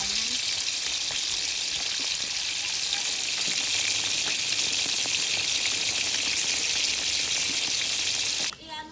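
Dalagang bukid fish fry in hot oil in a pan, a loud, dense, unbroken crackling sizzle close by that cuts off abruptly near the end.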